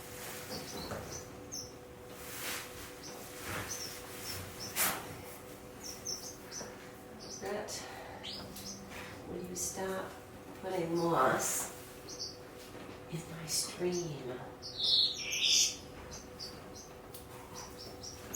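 Small finches, including fire finches, chirp and tweet in short high bursts in an aviary, scattered over a low background with some faint voices and movement noise.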